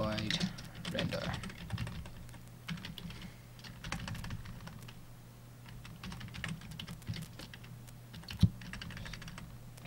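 Rapid clicking on a computer keyboard while coding a Java 2D game, steady irregular keystrokes throughout at moderate level, under a voice speaking intermittently.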